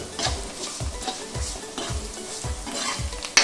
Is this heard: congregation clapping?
no